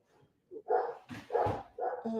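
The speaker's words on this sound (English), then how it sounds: "he's barking at Jessica" A dog named Charlie barks outside at someone, three or four sharp, moderately loud barks in quick succession with brief pauses between them.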